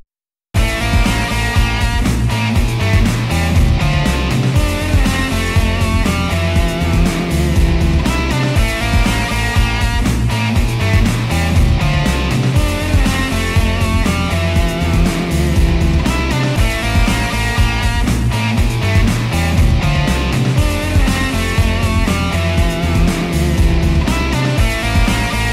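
A full-band rock track plays steadily at high volume, with driving drums, dense guitars and a constant beat throughout.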